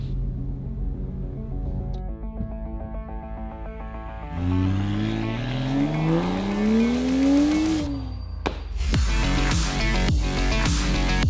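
A tuned BMW 335i running 1.3 bar of boost idles, then revs up in a long climbing whine that falls away, followed by sharp misfire pops and crackles from the exhaust.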